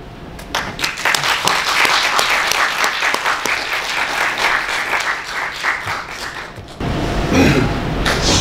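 Warm applause from a lecture audience at the National Jeonju Museum auditorium, welcoming a film director to the stage. The clapping is dense and continuous, then briefly thins before swelling again near the end.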